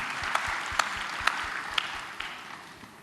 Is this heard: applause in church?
yes